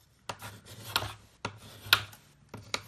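Pre-gummed mailing tape being burnished firmly along the inside of a small tray, heard as a handful of short, close rubbing and scraping strokes in an uneven rhythm, with quiet pauses between them.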